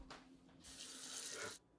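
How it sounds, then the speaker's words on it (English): Tap water runs steadily into a pot to soak off sugar residue after making butterscotch, a close, continuous splashing hiss with no talk over it, cutting off just before the end. "Just put water in here and let it soak"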